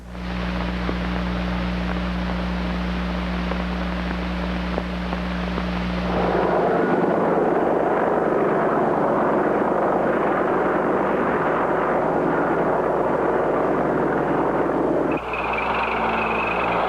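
Boeing AH-64 attack helicopter in flight, a loud sustained rotor-and-turbine roar that shifts in tone partway through and stays close and continuous with no talking.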